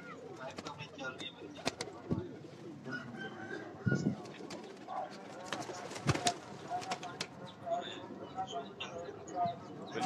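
Breeder pigeons coo repeatedly amid a busy loft with a voice talking throughout, with scattered flutters and knocks as the birds are handled and let go.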